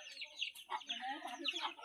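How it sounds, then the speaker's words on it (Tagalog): Chickens cluck in a series of short, bright, irregular calls at moderate distance, with quiet pauses between bursts and no one talking over them. "Nilang mga manok guys oh."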